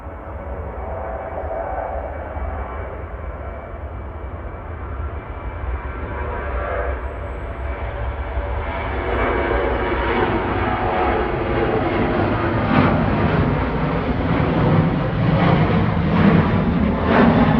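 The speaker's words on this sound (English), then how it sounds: "Ryanair 1863 to Cork now, EKG departing." Ryanair Boeing 737-800 departing Manchester Airport, a steady broadband jet engine roar at a distance that slowly builds louder through the takeoff, with no voices.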